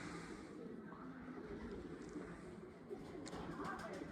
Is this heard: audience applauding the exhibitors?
no